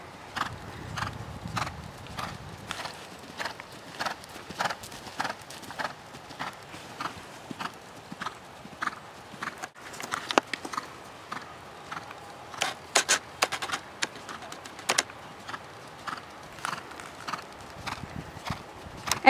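Horse hooves beat out a steady, rhythmic clip-clop of a canter on a riding surface, the regular strikes continuing throughout at moderate distance with no talking.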